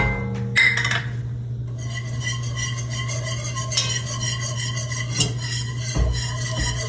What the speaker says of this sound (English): we're going to put in a 1/2 cup of flour and begin to whisk that in